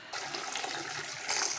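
Soaked grains being rinsed by hand in water, a close splashing and sloshing with steady wet noise across a short moment and a brighter swirl near the end.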